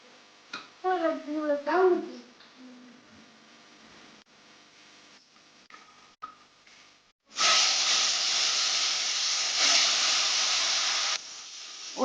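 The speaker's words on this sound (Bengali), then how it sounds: "এত কম তেলে মাছ ভাজা করছি" Fish frying in a small amount of oil gives a loud, steady sizzling hiss across the last five seconds, after brief talk and quieter kitchen sounds at the start.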